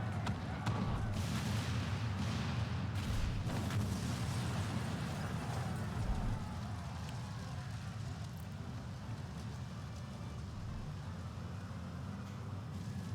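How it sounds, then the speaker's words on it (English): Cannon fire and explosions in the video game Final Fantasy XIV make a dense, continuous low rumble with repeated booms and bursts throughout, louder in the first half and then easing to a steady roar. "All cannons resume firing!"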